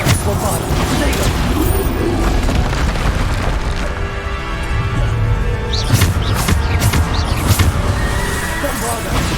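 Repeated Bombarda spell explosions go off in a hectic Hogwarts Legacy battle, with loud booms and crackling blasts layered among other combat effects and shouted spell calls throughout.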